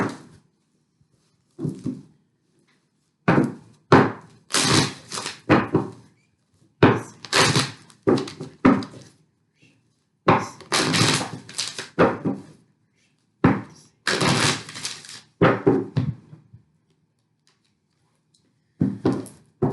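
Tarot love cards being handled and laid out, giving a series of short wooden thunks and taps in irregular bursts, close and fairly loud, separated by brief pauses.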